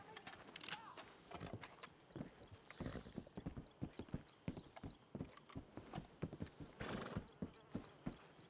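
Horse hooves clip-clopping in Red Dead Redemption 2, a steady run of close, sharp hoof strikes with a brief whinny-like burst near the start and faint background sounds.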